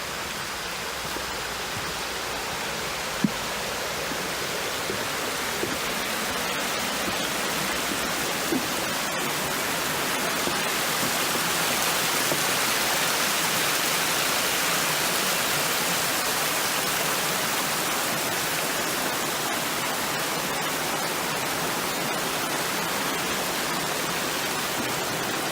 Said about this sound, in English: There's almost nothing nicer than the sound of running water.